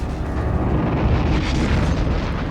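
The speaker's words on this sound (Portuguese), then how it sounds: "Os alemães disparavam balas de canhão a cada minuto nos soldados da praia." Cannon shell explosions on a WWII beach landing: a dense, continuous roar of booming blasts and rumbling detonations, loud and close with no gaps, no speech over it.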